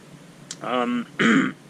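A person clears their throat twice in quick, rough bursts, close and fairly loud, with a short sniff just before.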